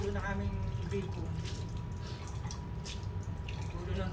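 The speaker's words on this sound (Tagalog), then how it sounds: "Tulo ng tubig." Water drips and trickles steadily at close range, a continuous wet patter under a low background hum.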